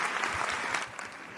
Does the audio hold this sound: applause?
yes